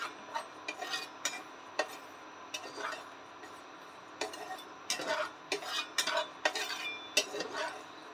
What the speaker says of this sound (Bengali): কাসুরি মেথি নিয়েছি, একটু কড়াই হালকা নেড়ে নিচ্ছি